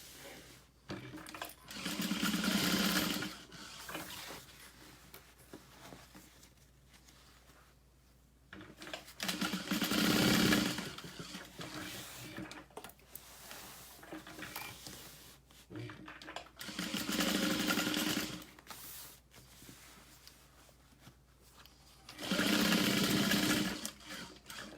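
A sewing machine back stitches seams on an all-vinyl tote in four separate loud runs of several seconds each, with quieter rustling and handling between them and talk over parts of it.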